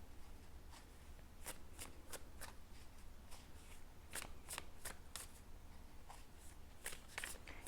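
Tarot cards shuffled by hand in a quiet room, a series of crisp riffling snaps at an uneven rhythm, close and fairly soft over a low steady hiss, with no talking.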